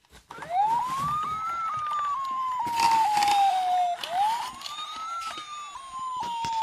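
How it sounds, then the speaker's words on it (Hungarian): A fire engine siren wails, rising and falling in long sweeps, fairly close and loud, with traffic rumble and clatter underneath. "Megérkezett a tűzoltóautó."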